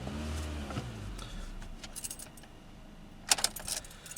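A key ring clinks and jangles close by in a few sharp metallic bursts, over the faint steady hum of a quietly idling car.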